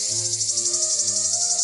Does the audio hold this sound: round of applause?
no